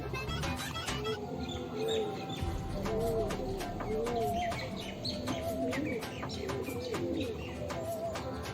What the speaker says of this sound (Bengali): কবুতরগুলো সব স্নান করার জন্য নেমেও গেছে ভেতরে